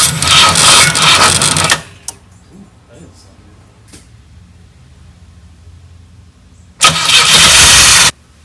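A Pontiac Fiero that has sat for over 30 years cranks with a loud, steady starter whir for about two seconds, then goes quiet. It cranks again briefly near the end without firing up, and faint movement is heard in the lull between.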